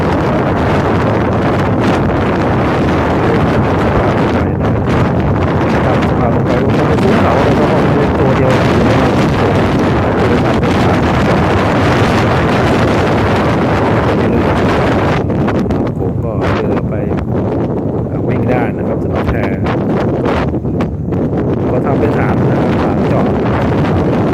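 Heavy wind buffets the microphone aboard a boat on the Mekong River near bridge construction works, a loud continuous roar with a droning engine and water rush beneath, and someone speaks intermittently over it.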